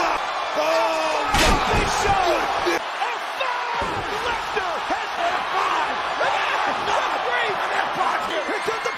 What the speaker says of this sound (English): Lesnar with another F5